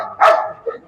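A dog at a farm gives one loud, close bark followed by a softer, short yelp.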